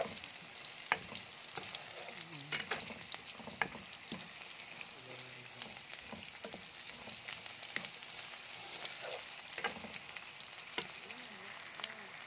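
Ginataang galunggong, fish simmering in coconut milk with ginger, stirred in a pan: a soft bubbling sizzle with intermittent clinks and scrapes of a utensil, close but faint.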